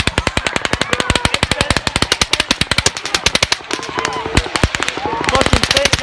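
Rapid automatic gunfire during the Las Vegas shooting crackles in long, fast, sustained bursts outdoors, with shouting voices mixed in and brief pauses between volleys.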